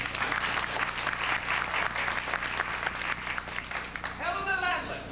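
A theater audience at a stage musical applauds in a steady wash of clapping, with a voice rising over the noise near the end.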